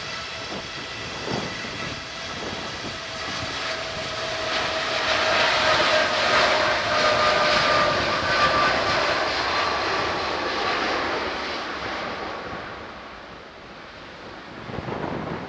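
An aircraft passes at Manchester Airport on a very windy day, its engine roar swelling to a loud peak midway and then fading slowly, set against blustery wind noise with no talk.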